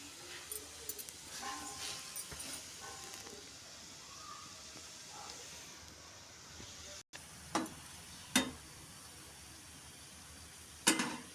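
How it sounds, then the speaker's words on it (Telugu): Gulab jamun balls bubble gently in hot frying oil on a low flame, a faint steady sizzle with occasional utensil scrapes and three sharp clicks in the latter half. "గోల్డెన్ బ్రౌన్ కలర్లో వచ్చేంత వరకు ఫ్రై చేసుకోవాలి."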